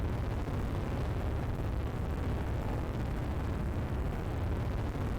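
A rocket lifting off in the video game SimpleRockets 2 gives a loud, steady, broadband engine roar with deep rumble, sustained without break throughout.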